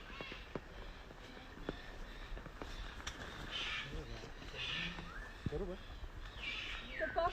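Harsh, screeching cockatoo calls ring out repeatedly at a middle distance over a busy outdoor bird park background with faint talking.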